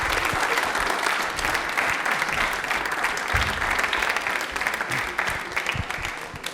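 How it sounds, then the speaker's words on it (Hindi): Studio audience at a televised quiz show bursts into sustained, even clapping, a dense close wash of many hands that carries on for several seconds without speech. "तालियां पहले एक बार इनको बजा दीजिए"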